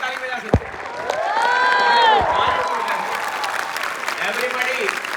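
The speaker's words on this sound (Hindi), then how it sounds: "अरे क्या हम हाथ ऊपर करके ताली बजा सकते हैं?" An audience claps at a live event with a boAt co-founder, the applause swelling into a loud rattle under cheers and voices, then thinning out while someone talks.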